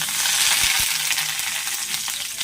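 Pieces of hilsa fish paturi set into very hot frying oil give a loud, continuous close sizzle with a couple of low thumps as pieces go in; no voices.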